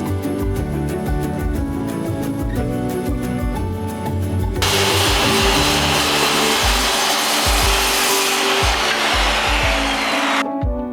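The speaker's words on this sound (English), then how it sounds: "so I'm going to trim down these boards just a bit" Pallet wood boards are trimmed with a power saw, a loud close continuous whine running for several seconds and stopping abruptly, preceded by rhythmic mechanical humming.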